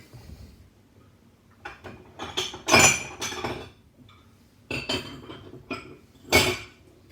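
Kitchen bowls and dishes clinking and knocking as another bowl is taken out, several sharp clattering bursts separated by short pauses, close and fairly loud, no voices.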